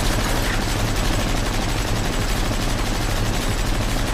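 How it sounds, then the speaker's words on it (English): A Bren light machine gun firing in a dense, continuous rattle of rapid shots, loud and sustained throughout without pause. "Well, that was the bren gun."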